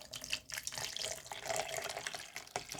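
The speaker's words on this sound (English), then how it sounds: "Then you want to add very cold water." Very cold tap water pours into a shaker bottle, a close splashing stream with gurgles and small bursts that shift in pitch as the bottle fills.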